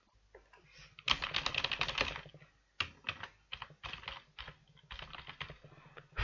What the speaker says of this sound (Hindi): मैं कोई भी ईमेल टाइप कर देता हूं।